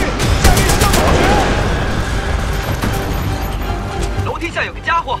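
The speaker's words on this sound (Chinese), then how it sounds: "下面有炮火" Gunfire in the video game Titanfall 2 rattles in rapid bursts with booming impacts, while voices talk over the firing as it thins out toward the end.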